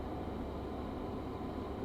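A diesel train engine in Train Sim World 3 on a single-track line into Penzance gives a steady, low, continuous rumble, even in level and with no talking.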